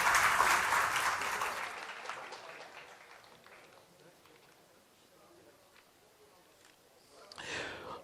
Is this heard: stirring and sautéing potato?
no